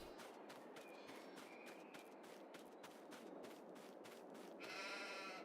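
Sheep in Farming Simulator 22 bleat faintly under a soft run of rhythmic footstep-like taps, ending with a louder, brighter bleat.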